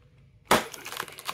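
A Disney Doorables toy, series 10, is smashed: a single sharp crash after a quiet start, followed by a brief scatter of rattling, crunching debris.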